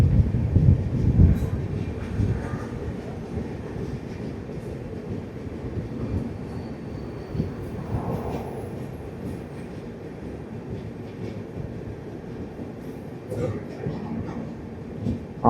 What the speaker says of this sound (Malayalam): കോയമ്പത്തൂർ മംഗലാപുരം എക്സ്പ്രസ് ഇങ്ങോട്ടേക്ക് ഇപ്പോൾ വരാനുണ്ട്